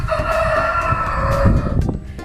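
A rooster in a backyard hobby flock in Germany crows loudly and close by, one drawn-out call holding its pitch before trailing off, with some clucking underneath.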